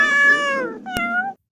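A cartoonish cat meow sound effect, two loud close meows in quick succession, the first long and falling, the second shorter, with no other sound.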